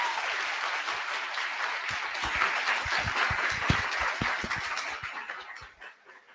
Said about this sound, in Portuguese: Então, por favor, mais uma salva de aplausos para o nosso palestrante.